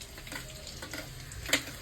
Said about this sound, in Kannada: ಒಗ್ಗರಣೆ ಹೆಂಗೆ ಹಾಕ್ತಾರೆ ನೋಡ್ರಿ.